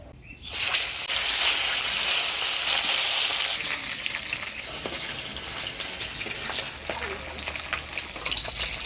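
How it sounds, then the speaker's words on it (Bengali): Katla fish drops into a hot pan of oil and erupts into a loud, close, dense sizzle that gradually eases into steady crackling frying. "লাল শাক তো ভাজিয়ে নিলাম এবার মাছটা ভাজিয়ে নিই"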